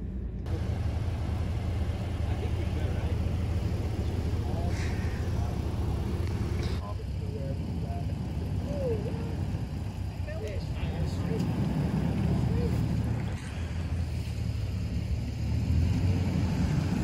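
An off-road vehicle's engine rumbles low and steady while pulling a stuck Toyota 4Runner free on a forest trail in the Cherokee Forest, with muffled voices faintly underneath.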